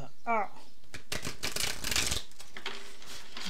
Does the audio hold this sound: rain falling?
no